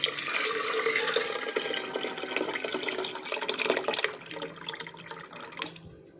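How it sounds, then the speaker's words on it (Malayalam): Second-press coconut milk poured into white wheat in a kitchen, a steady close splashing pour lasting several seconds before thinning into trickles and drips. "അതിനകത്തേക്ക് ഒഴിച്ചു കൊടുക്കാം."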